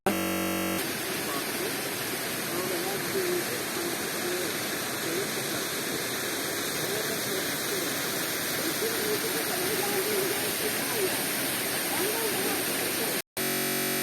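The Yedi Göz waterfall in Turkey pours in a constant, loud roar, close by and unbroken for the whole stretch, with a brief cut near the end.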